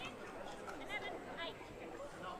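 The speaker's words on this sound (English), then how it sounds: "You can hear them getting loud on the left" Spectators at a pickleball gold-medal final in Brisbane, a faint murmur of chatter and babble swelling softly in the background.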